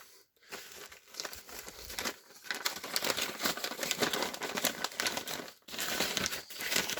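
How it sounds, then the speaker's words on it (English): Crinkly paper from a reproduction WWII German ration pack being unwrapped and opened up, a close, continuous rustling and crumpling with brief pauses, no talking over it. "open up our paper here. We got an inner layer of paper."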